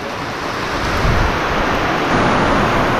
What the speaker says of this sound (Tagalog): Tigil na ulan!